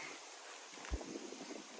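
Wind gusts through a Florida garden in a broad, steady hiss with low buffeting thumps against the microphone, fairly faint and continuous throughout.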